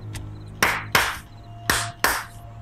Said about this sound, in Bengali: কর্তা আবার দুইবার হাততালি দিল।